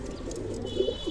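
Pigeons kept in a home loft coo softly and steadily for about a second, low murmuring calls with a faint high tone near the end, no talking.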